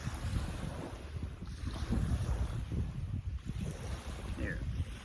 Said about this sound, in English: got some waves this morning.